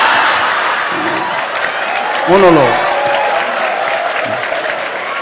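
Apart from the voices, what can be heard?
audience applauding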